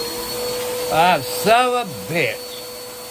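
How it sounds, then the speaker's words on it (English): A household vacuum cleaner, switched on by a cat, drones with a steady electric hum throughout while someone speaks a few short bursts over it. "One of my kitty cats turned on the vacuum cleaner."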